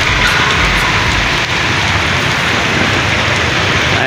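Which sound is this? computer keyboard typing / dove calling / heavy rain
heavy rain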